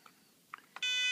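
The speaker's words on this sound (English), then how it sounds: "What we'll do is turn on the timer." A Magic Timer, a small electronic model-aircraft timer programmed by Palm Pilot, is switched on: a couple of soft clicks followed by a loud, sustained electronic beep.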